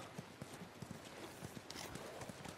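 Several horses' hooves clop in a steady, overlapping rhythm on the ground in The Last of Us, close and moderately loud, with no talk over them.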